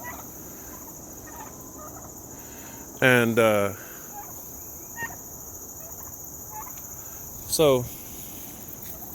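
A turkey on a homestead gobbles twice, loud rattling calls several seconds apart, over a steady chorus of crickets and insects, with someone briefly speaking.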